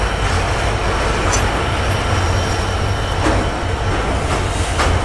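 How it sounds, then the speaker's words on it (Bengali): The Banglabandha Express on the Panchagarh to Rajshahi run crosses the Atrai river rail bridge with a loud, continuous rumble and rattling wheel clatter, heard close from on board with no talk. "দেখেন আমাদের ট্রেন এখন পার হচ্ছে আত্রাই নদী"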